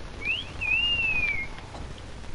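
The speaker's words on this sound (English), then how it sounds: "He started whistling like I do when he's in the party." A game character in Dying Light whistles a short two-part tune, a brief rising note followed by a longer sliding note, clear and fairly loud over faint background noise.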